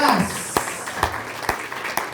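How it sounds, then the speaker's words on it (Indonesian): A few slow, evenly spaced claps at a public gathering, about two per second, fairly distinct over a steady background hum. "Tepuk tangan dong"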